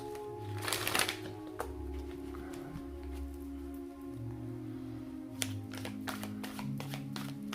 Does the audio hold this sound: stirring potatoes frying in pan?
no